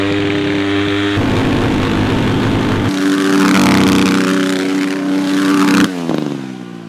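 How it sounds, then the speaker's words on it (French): A stunt motorcycle, still being run in after a piston change, screams at very high revs, held steady with slight shifts in pitch before dropping off sharply near the end, loud and close. "Pour faire les circles, je mets le régime moteur super haut."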